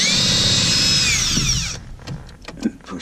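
Power drill whining loudly and steadily against the ignition roll pin on a 2004 Honda CR-V, then cutting out into a few clanks and metallic knocks.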